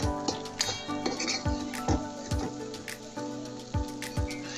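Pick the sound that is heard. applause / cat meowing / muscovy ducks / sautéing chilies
sautéing chilies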